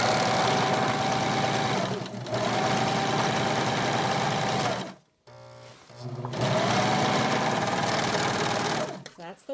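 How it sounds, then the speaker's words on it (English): A serger sewing machine runs in fast, steady bursts while stitching the shoulder seam of an isolation gown, stopping briefly midway, with a voice speaking over the close mechanical whir. "now you can serge, you can sew whichever way you want"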